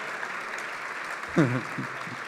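Audience applause at the closing session of an academic conference, a soft, even wash of clapping with a voice briefly speaking over it midway.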